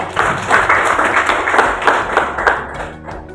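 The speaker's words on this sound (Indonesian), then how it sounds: "Selanjutnya sudah kita kasih tepuk tangan untuk kelompok 2." A classroom of students claps for a group that has just presented, a brisk, loud round of many hands applauding together that thins out toward the end.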